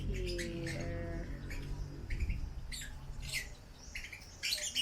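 Budgies, African lovebirds kept at home, give short, faint chirps and squeaky calls in scattered bursts over a low background hum.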